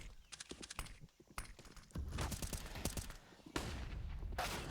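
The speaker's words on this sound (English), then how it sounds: "there's a shot from Inters" Rapid gunfire bursts from a Counter-Strike: Global Offensive pro match at IEM Cologne 2022, sharp clustered shots and rattling volleys crowding together, loud and busy with no voices over them.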